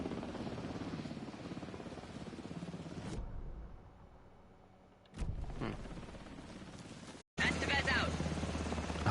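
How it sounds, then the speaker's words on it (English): A helicopter flies in the video game Alan Wake 2, a steady droning rumble that drops away, returns, then cuts briefly before coming back loud, with someone talking over the game sound. "A helicopter?"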